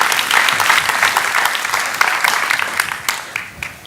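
Sustained audience applause fills a lecture hall as a speaker on business organisation and high-tech employment in the US is welcomed to the stage, dense clapping from many hands holding steady before tapering slightly at the end.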